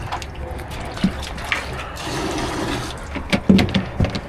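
Water from a 5-gallon bucket pours into a tank at a perch pond, with a splashing, gurgling flow broken by a few sharper splashes and knocks near the end. No one speaks.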